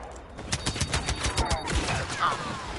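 Turret fire in Star Wars Battlefront II sounds as a rapid string of blasts, a dozen or so closely spaced shots over a few seconds. A thin, whistling tone streaks past near the end.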